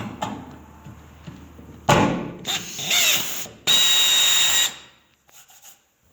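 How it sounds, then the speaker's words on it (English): Power drill boring a 1/8 inch hole into a pickup truck's sheet metal bedside, heard as two loud close bursts of whirring drilling, separated by short pauses and quieter handling sounds, with no talking. "you can just drill an 1/8 inch hole in here and use a sheet metal screw"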